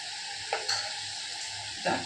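Batter frying in hot oil in a home kitchen, a steady broad sizzle throughout with a few brief louder bursts and spoon stirs, fairly close and with no voices.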